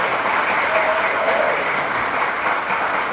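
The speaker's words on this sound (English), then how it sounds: "Give him a round of applause." An audience at an Arkansas Martin Luther King Jr. Commission event in Harrison applauds loudly and continuously, a dense sustained clapping wash filling the whole stretch with no speech over it.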